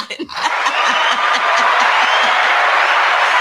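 A small group claps along with snickers and chuckles, giving a steady run of close, dense hand claps beneath laughter that continues throughout.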